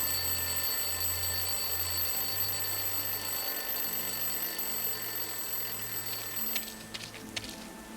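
An alarm clock dumped in a rubbish bin in the game Lost Horizon rings with a steady, high metallic jangle that runs continuously at moderate volume, then cuts off near the end as softer shuffling sounds follow.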